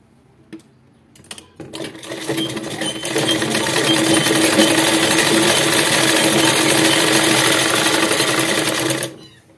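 An electric sewing machine stitches fabric for a Patiala salwar, starting with a few clicks, then running in a steady, loud, fast-whirring hum for several seconds before stopping abruptly.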